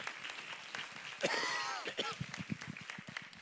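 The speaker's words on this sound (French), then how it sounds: "merci de l'applaudir" Audience applause at a conference on edible wild plants, a steady patter of clapping with voices and chatter mixed in throughout.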